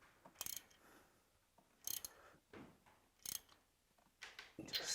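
A plug wrench on the spark plug of a Harley motorcycle engine ticks in faint, quick ratcheting clicks. The clicks come in short bursts at roughly even intervals with quiet gaps between them.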